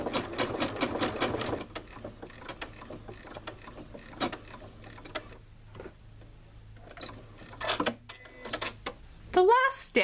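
A sewing machine stitches a sunglass case, a rapid close mechanical rattle that is loudest at the start, then gives way to short, quieter bursts of stitching while a person talks.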